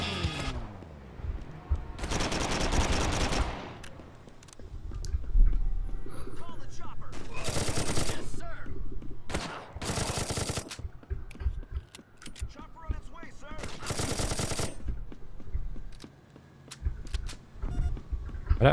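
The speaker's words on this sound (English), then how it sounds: "I don't have much minigun ammo left" Bursts of rapid minigun fire in the video game Driver: Parallel Lines, several loud sustained volleys separated by engine and gameplay noise, with players talking over the action.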